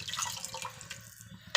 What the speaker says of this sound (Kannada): ನೋಡಿ, ನೀರು ಕುದೀತಾ ಇದೆ.